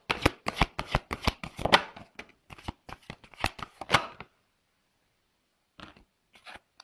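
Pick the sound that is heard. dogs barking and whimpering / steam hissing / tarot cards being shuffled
tarot cards being shuffled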